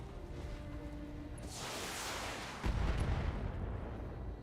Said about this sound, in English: Missiles away on the striker. Striker is down.